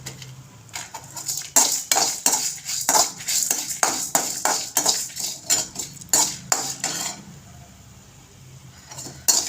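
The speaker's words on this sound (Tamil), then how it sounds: "இதை பொடி போட வறுக்கிற முறை" Toor dal, cumin and dried chillies are dry roasted in a pan, heard as rapid, close scraping and clattering of a spatula against metal in quick bursts, easing off near the end, with no talk.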